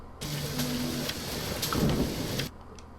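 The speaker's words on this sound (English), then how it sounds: "We'll go ahead and exit the rain" Rain and thunder from a level in the video game Toby: The Secret Mine, a steady wash of heavy rain with a rumbling thunder roll in the middle, cutting off abruptly before the end.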